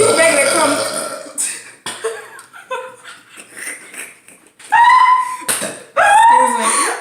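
Loud, close burps break out during a no-burping challenge, several in succession, mixed with people talking, laughing and reacting around them.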